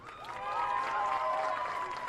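A high school football senior night crowd in the stands applauds and cheers for graduating band and cadet members, a steady wash of distant clapping and crowd noise that holds for the whole stretch.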